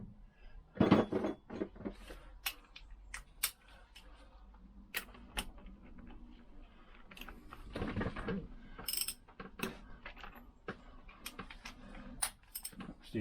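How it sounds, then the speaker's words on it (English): A socket set turns a nut by hand on a Lambretta scooter, giving scattered close ratcheting clicks, small metallic taps and handling noises at irregular intervals, fairly quiet, with no talking. "I do need my big socket set, which again, well, 22. Put a spacer on there, and what I'm just going to do at the moment is hand tighten it"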